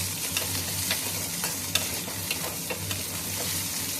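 Fresh coconut, roasted gram and tamarind frying in a pan for a millet dosa chutney, with a continuous loud sizzle, light stirring clicks scattered throughout and a low steady hum beneath, no one speaking.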